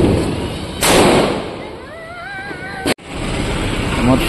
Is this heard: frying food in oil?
no